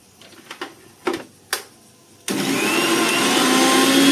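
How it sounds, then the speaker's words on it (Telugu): A kitchen mixer grinder whirs loudly and steadily as it grinds spice paste for pulao, starting abruptly after a few faint clicks and knocks of the lid and jar being set in place. "అందుకనేసి ఇప్పుడు నేను గ్రైండ్ చేసేస్తాను ఇది।"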